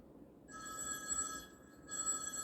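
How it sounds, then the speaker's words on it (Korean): A telephone ringing during a Sunday morning church service, an electronic trill that sounds in two bursts separated by a short gap, moderately loud over a quiet room. "전화 받으시면 됩니다."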